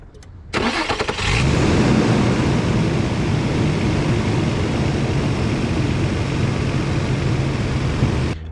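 The engine of an AWD Honda car cranks briefly, catches and fires up, then runs loudly up close with a steady, slightly revving drone for several seconds.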